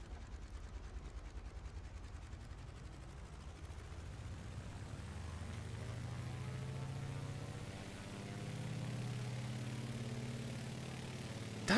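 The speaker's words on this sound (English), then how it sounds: "Exhaust effects. Nice poppy Wasp Junior sound." A Beech 18's Wasp Junior radial engine in MSFS 2020 runs with a faint, steady, poppy drone that swells slightly as power builds, with no talking.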